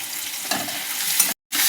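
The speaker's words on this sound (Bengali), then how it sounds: "এবার আদা বাটাটা দিয়ে একটু ভালো করে মশলাটা কষিয়ে নেব" Ginger paste and spices fry in a pan with a close, steady sizzle, lightly stirred, before a brief cut to silence and the sizzle resumes.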